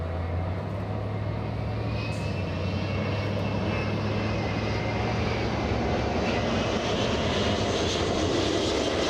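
An Airbus A380 jet airliner passes at LAX with a loud, steady engine roar that holds throughout and carries a sweeping high whine, with no voices.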